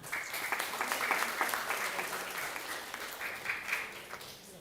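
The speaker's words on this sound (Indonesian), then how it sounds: "Ya, kita semua memberi tepuk tangan." Worshippers at a Christmas service in Ambon clap together, a steady crowd applause with slight swells and dips as it carries on evenly, a little distant in the room.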